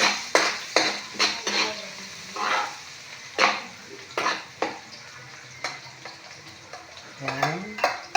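Garlic sautés in hot oil with a steady sizzle, broken by repeated sharp scrapes and clinks of a utensil stirring against the pan.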